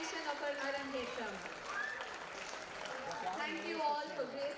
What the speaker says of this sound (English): A huge round of applause for her successful completion of her Arangetram.